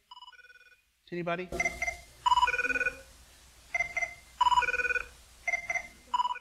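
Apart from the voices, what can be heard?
ringtone from the TV show 24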